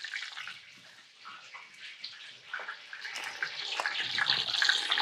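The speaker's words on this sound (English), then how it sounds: "So now we can add in our heavy cream." Heavy cream pours into a dark brown roux in a pan, giving a soft running liquid splash and trickle that grows steadily louder toward the end, with faint stirring noises.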